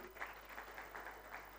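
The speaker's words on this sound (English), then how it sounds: "Another round of applause to the First Lady" Audience applause for the First Lady at a Merck Foundation luminary conference, a faint, distant wash of clapping rising and falling in soft pulses over a low hum.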